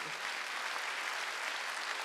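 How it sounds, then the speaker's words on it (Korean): A church congregation at a Sunday worship service claps in dense, sustained applause, many hands blending into an even, moderately distant wash with no voices heard. "박수 치려면 세게 치라고"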